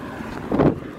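Strong wind buffets the microphone on a windy hilltop while working on the hood of a 1997 Chevrolet Silverado, a brief low rumbling gust swelling in the middle of the clip.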